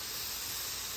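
Mushrooms and onions sizzle on a hot flat-top griddle while cheesesteak filling cooks, giving a steady, close, even hiss with no voices.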